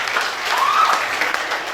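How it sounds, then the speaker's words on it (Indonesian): Brief burst of applause for young contestants at a Kediri city archives and library cultural competition, steady dense clapping from a crowd with a faint voice tone rising midway, loud and continuous throughout. "Tepuk tangan untuk kalian."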